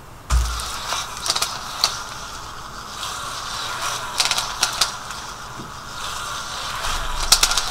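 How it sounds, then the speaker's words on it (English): A fischertechnik TXT walking robot rattles as it steps forward, producing irregular clusters of plastic clicks and mechanical clatter with short pauses between strides, close and moderately loud. "although there is some rattling and diversion, because it doesn't walk in a straight line once again, but at least it walks forward"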